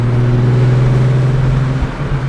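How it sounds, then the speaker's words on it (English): A turbocharged BMW 135i engine drones loud and close with a steady low hum, easing off slightly near the end, no one speaking. "Dude, these turbos are loud."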